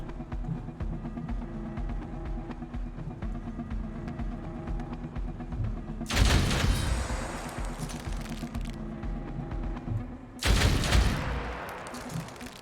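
Bursts of gunfire aimed at a Reaper, an upgraded Hunter enemy, in the turn-based game Othercide: two loud, dense volleys break out over a steady ambient game background, the first about four seconds long and the second shorter.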